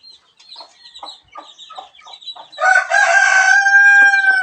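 Chickens kept on a house roof cluck in a series of short calls, then a rooster crows loudly and close for the last two seconds.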